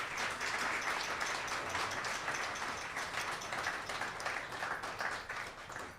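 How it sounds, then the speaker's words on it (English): An audience at a college event gives a steady round of applause, a dense, even patter of many hands clapping that holds for several seconds, then tapers slightly toward the end. "I think that deserves a round of applause and recognition."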